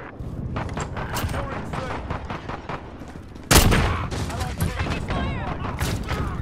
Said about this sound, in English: This is Striker, we're taking some fire